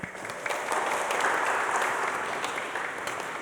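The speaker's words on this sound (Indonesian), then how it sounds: "Mari kita beri tepuk tangan untuk mereka." A crowd at a wedding ceremony breaks into warm applause for the newly married couple, a dense, even clapping that swells and holds for a few seconds.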